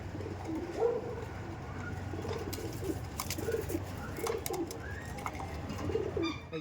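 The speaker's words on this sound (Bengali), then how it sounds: "এটা দেখেন, এটা আছে নর পায়রা" Pigeons coo repeatedly in a loft of birds kept for sale, their low throaty calls recurring every second or so at moderate distance over steady background noise, with occasional chirps.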